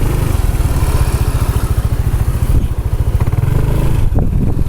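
A close, loud FK motorcycle engine running on Petroasia Revol 20W50 oil chugs in a fast, even pulse while riding gently, with a faint mechanical clatter over the rumble.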